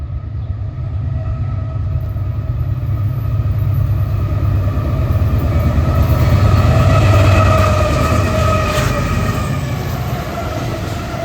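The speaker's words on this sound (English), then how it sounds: "we had a westbound intermodal to get through" A westbound intermodal freight train rolls past in the Chicago area with a steady, loud rumble of wheels and cars that swells toward the middle and holds for the full stretch, with no voices.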